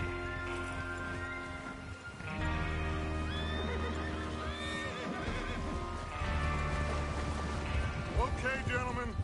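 In Red Dead Redemption 2, horses whinny and snort in several rising and falling calls close by, with hooves clopping and shuffling underneath as the riders gather to move out.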